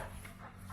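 A large dog on a beach walk at Lincoln City pants and huffs close by in a brief, steady burst.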